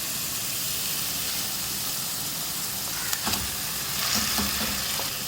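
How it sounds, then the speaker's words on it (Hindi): Beef mince frying with garlic and ginger in a pan, a steady sizzle running throughout with a few brief clinks and stirring scrapes partway through, slightly louder near the end. "लहसुन अदरक मैंने फ्राई कर लिया है। ये कीमा डालूंगी इसमें।"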